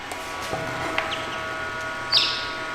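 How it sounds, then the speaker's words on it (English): Newly hatched baby chicks on a farm in Portugal give a few scattered high peeps, close by, with one louder chirp near the end and no voices. "We have a bunch of baby chicks that have hatched."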